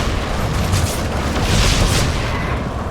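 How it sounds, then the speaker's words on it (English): A heavy booming roar from a Terran missile explosion in StarCraft 2: Heart of the Swarm, a dense sustained rumble filling the space without a sharp onset. "The Terrans have launched a missile."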